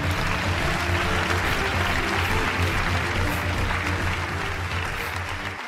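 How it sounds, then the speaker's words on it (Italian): Loud, sustained applause from an audience at the Le Fonti Awards ceremony in Italy, a dense continuous wash of clapping with a low hum beneath, holding steady for several seconds before easing slightly at the end. "Un bel applauso, grazie."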